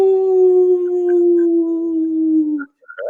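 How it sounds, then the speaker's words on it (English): A long, sustained howl, apparently from a wolf, holds one clear, slowly falling pitch for over two and a half seconds before breaking off; a brief yelp-like sound follows. "That was the best howl."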